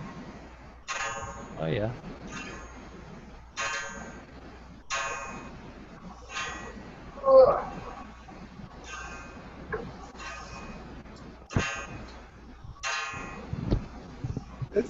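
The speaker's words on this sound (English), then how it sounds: "It's got a good gong to it." A wound German-made clock sounds its gong chime, striking about ten evenly spaced, ringing metallic blows close by, each decaying into a lingering hum, with someone talking softly between strikes.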